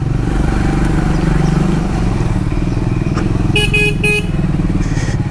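A Triumph Scrambler 400X motorcycle rides along with a steady, loud engine drone throughout, and a vehicle horn honks a few short times near the end.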